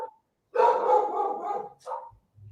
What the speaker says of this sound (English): I don't know why my dogs are barking, I apologize